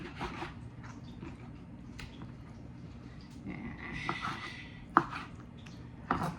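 A knife cuts through raw chicken on a board, quiet slicing and rubbing with a few sharper knocks of the blade, close and soft.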